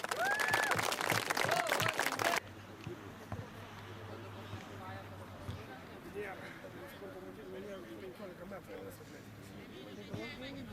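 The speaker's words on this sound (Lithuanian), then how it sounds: "Ačiū statybininkams, garsus plojimai" Applause for the builders at a stadium opening, a loud burst of crowd clapping that stops after about two seconds, followed by quieter murmuring voices and ambient noise.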